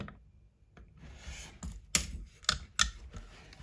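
A part is tightened on a cheap DIY electric guitar kit, heard as a few sharp close metallic clicks and small ratcheting taps between quiet pauses, with no talking.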